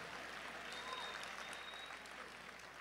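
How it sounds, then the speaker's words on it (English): Steady, dense applause from an audience at a motivational talk, clapping evenly and loudly throughout with no one speaking over it. "Give her a round of applause."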